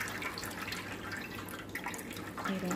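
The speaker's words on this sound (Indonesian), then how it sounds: "Ini airnya kita buang terlebih dahulu." Water poured out of a container of sprouting bean sprouts, a steady splashing trickle like a tap running into a sink, close and fairly quiet, continuing for a few seconds with no talking.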